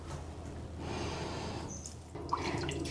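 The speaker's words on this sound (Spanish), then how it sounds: "Le ponemos sal a las patatas y pimienta al gusto, y le ponemos el vino" Wine is poured over pork tenderloin and potatoes in a baking dish, making a soft continuous liquid splash that fades briefly before a few closer drips and trickles.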